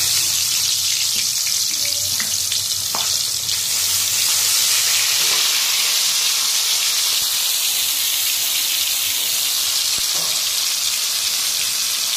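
Leafy greens washed under a running kitchen tap, a steady hiss of flowing water with faint splashes and handling noises and no talking.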